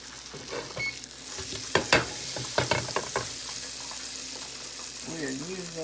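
Half a stick of butter sizzles and crackles in a pan for a honey garlic wing sauce, a steady hiss broken by sharp pops and scrapes, with a voice briefly heard near the end.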